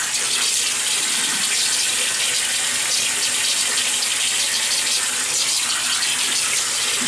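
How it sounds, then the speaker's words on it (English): Water splashes and runs steadily from a tap into a sink while the face is wetted before a shave, a close, continuous hissing flow with no pauses. "So let me wet the face."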